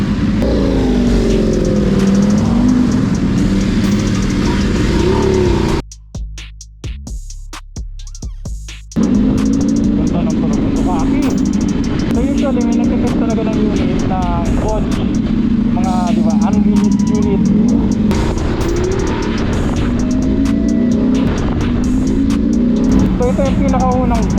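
Loud, continuous engine and exhaust roar from a Voge 900 DS motorcycle, with revving surges, a brief drop to near silence in the middle, and people talking over the engine throughout.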